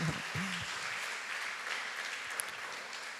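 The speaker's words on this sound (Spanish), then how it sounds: "vamos a darles un aplauso" Applause from a church congregation at a Sunday service, a steady even wash of clapping throughout, with a brief voice at the start.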